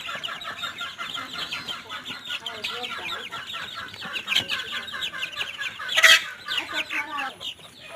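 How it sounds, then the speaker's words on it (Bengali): Seven 23-day-old Sonali and tiger breed chicks peep and cluck continuously up close, a busy overlapping chorus of short chirps with a louder burst near the end. "এগুলো হচ্ছে সোনালী এবং টাইগার মুরগি বাচ্চা, যাদের বয়স আজ 23 দিন।"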